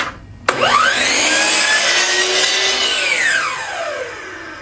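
A power tool bites into the edge of a wood board for a trim, starting abruptly and holding a steady, loud whine for about four seconds before easing off as the cut finishes.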